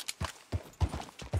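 A skittish horse's hooves clop in Red Dead Redemption 2, five or six distinct close, fairly soft thuds in an uneven walking rhythm.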